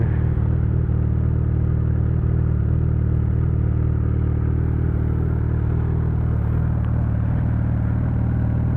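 A Suzuki Hayabusa motorcycle with a new exhaust and the dB killer removed idles close by, producing a loud, steady, deep bassy rumble that stays even throughout with no revving.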